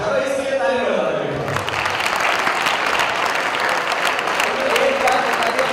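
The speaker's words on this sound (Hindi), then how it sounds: "चलो इसके लिए ताली बजा दो।" Someone speaks briefly before a large audience breaks into loud, sustained hand clapping at a gathering at Acharya Kulam in Haridwar, and the clapping continues strongly to the end.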